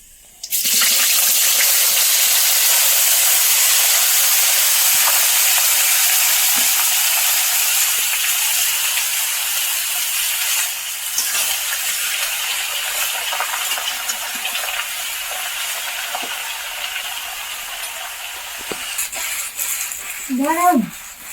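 Cut potatoes dropped into hot oil give a loud, steady frying hiss that starts abruptly and gradually eases, with a few faint clinks near the end.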